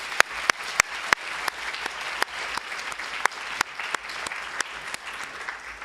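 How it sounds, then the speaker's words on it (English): Round of applause at an art talk: a steady patter of clapping from a small audience, with sharp individual claps standing out in a regular rhythm near the microphone. "I just want to give Mr. Very a round of applause."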